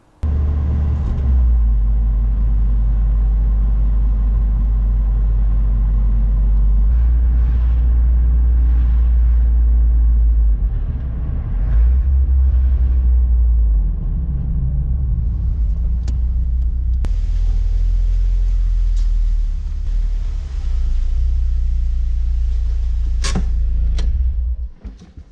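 Mazda NC Miata on the road, a loud steady engine drone and rumble from inside the car with shifts in pitch as it speeds up and eases off, no voices.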